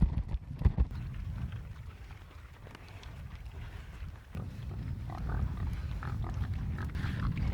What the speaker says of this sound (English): watch these pigs fight over this swill